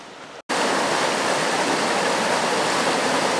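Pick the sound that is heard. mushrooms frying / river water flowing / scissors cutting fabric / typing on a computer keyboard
river water flowing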